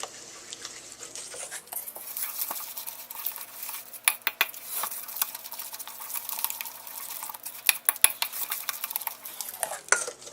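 Ingredients with salt are mixed in a bowl, a soft continuous stirring and scraping with light clinks of a utensil against the bowl, close and fairly quiet over a faint hum; no one talks.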